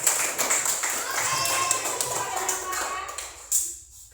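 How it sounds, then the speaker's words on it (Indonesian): Applause from a group fills the clip, steady clapping for a few seconds that tapers off near the end, with a burst of hand claps just before it fades. "tepuk tangan untuk Ija"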